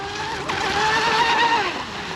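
A J&R Marine H26 RC hydroplane boat runs at half throttle on the water, its high whining electric motor steady and loud with slight pitch wavering as it moves.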